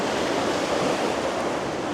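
Steady, dense roar of sea waves washing against a rocky shore on the east coast near Pohang, continuous broadband surf with slight wind noise and no voices.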